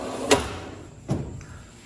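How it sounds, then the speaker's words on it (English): A full-extension drawer on a Premier series Gladiator garage cabinet slides out, with a sharp knock at the start and a second thump as it reaches the end of its travel, close and distinct, with no talking. "On the Premier products, the drawers come almost all the way out, so you can easily get to the back of the drawer."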